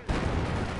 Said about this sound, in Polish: Wybuch, koniec.